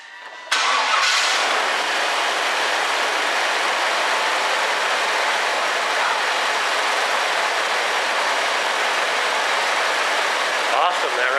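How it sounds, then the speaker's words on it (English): A 1999 Chevrolet Suburban engine catches after a brief crank and settles into a loud, steady run, its broadband roar holding evenly close to the microphone without pause. "Alright, we're going to see if this starts now"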